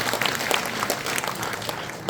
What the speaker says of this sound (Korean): 여기서 박수를 치셔야 되는 거예요.